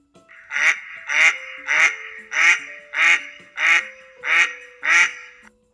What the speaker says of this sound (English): A pekin duck. I quack, and this is what I sound like.